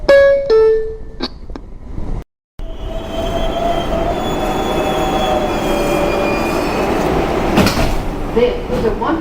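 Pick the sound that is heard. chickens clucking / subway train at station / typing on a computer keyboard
subway train at station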